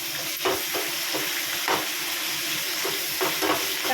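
Coriander, mint and curry leaves fry with garlic paste in a pan, a hissing sizzle under a few scraping strokes of a spoon stirring the mixture.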